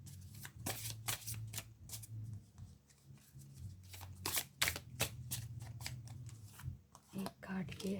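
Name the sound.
tarot cards being shuffled and laid out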